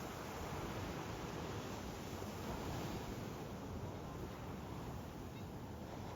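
Pacific Ocean surf at Sayulita beach in Nayarit, Mexico rolls in as a steady, broad wash of breaking waves with a faint wind hiss, continuous and fairly soft throughout.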